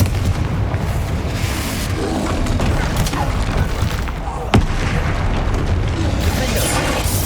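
Repeated booming spell blasts from the Confringo fire spell in the Hogwarts Legacy video game, dense and continuous with rumbling low end, one sharp burst standing out midway amid ongoing combat effects.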